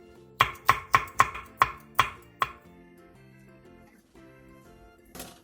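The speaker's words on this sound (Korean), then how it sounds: "홍고추 1개를 쫑쫑 썰어주세요." Knife chopping a red chili pepper on a cutting board: seven crisp, evenly spaced chops close up in quick rhythm, then quiet background with one faint knock near the end.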